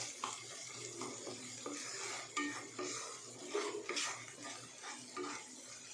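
Spice masala for a pomfret fish curry is stirred and fried in a pan, with a soft sizzle under repeated scraping and clinking of a spoon against the metal, close up and without talk.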